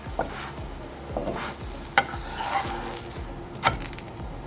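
A gluten-free stuffed paratha sizzles in a pan while a spatula presses and spreads it, giving soft scraping strokes and a few sharp clicks against the pan over a steady low fry.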